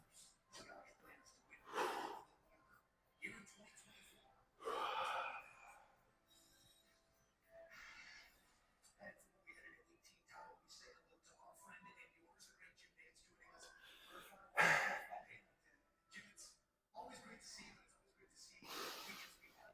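Heavy, ragged breathing after an arm workout at the gym, several loud gasping breaths and snorts spaced irregularly, close to the microphone, with faint background sounds between them.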